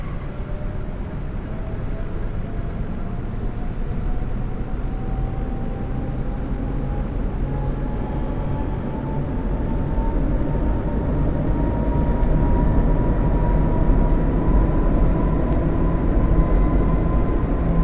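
A Pennsylvania Railroad V2 locomotive hauling the Santa Fe Express runs straight ahead on a simulated main line, giving a steady, continuous rumbling drone with a faint rising tonal whine that grows slightly louder toward the end.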